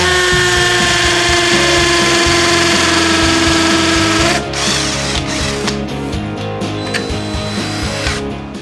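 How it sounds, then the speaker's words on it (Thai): An iMAX IMCD-20GT cordless drill hammer-drilling into concrete: a loud, steady whining, rattling drone for about four seconds, then rougher grinding as the bit bites, close and continuous with no talk. "ผมจะลองเจาะปูปูนดูนะลองไปในโหมดกระแทกนะครับ"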